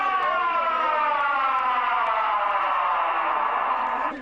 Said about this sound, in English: Our siren's about to go off, and this is the next wave.